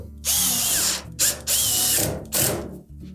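A power drill drives screws into the bulkhead of a Samsung dryer, three loud close whirring bursts separated by short pauses, with slight pitch changes as each screw seats.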